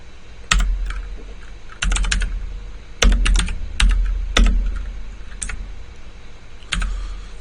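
Text is typed on a computer keyboard during a CAD drawing exercise: close, crisp key clicks come in short clustered bursts separated by brief pauses, with no talking.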